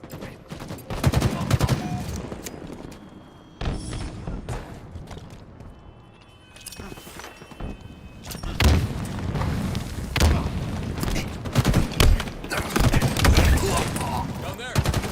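Close, booming shotgun blasts from Halo Infinite mixed with a dense barrage of other gunfire and explosions, loud and repeated in irregular bursts across the whole stretch, with a player talking at times.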